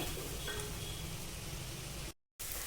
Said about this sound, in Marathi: आता त्यामध्ये मी बारीक चिरलेला कांदा, बारीक चिरलेला टोमॅटो घालून छान परतून घेते।